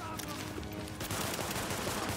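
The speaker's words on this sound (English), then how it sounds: "I can't shoot straight." Video game gunfire from The Division: dense, continuous shooting and rapid bursts fill the scene at steady loudness, with voices talking over the combat.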